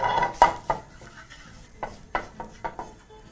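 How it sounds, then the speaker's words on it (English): A spiced mixture with nutmeg and paprika stirred in a pan with a wooden spoon, giving a string of soft scrapes and knocks in an uneven rhythm over a faint frying hiss, close and fairly quiet. "And using a wooden spoon, proceed to fry your mixture."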